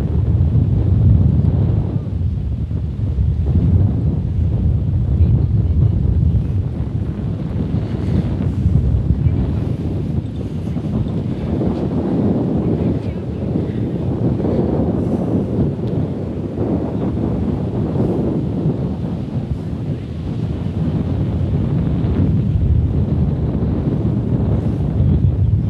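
Strong wind at Tamandaré beach in Pernambuco, a loud continuous roar and buffeting against the microphone, rising and falling in gusts with waves faintly beneath.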